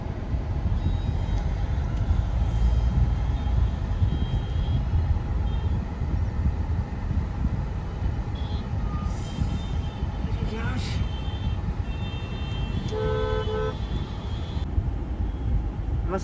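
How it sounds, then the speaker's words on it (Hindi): Heavy street traffic near Hawa Mahal in the Pink City rumbles continuously, with brief horn toots and rickshaw engines mixed in while people talk nearby. "इतना मतलब नेक्स्ट लेवल ट्रैफिक भाई, नेक्स्ट लेवल।"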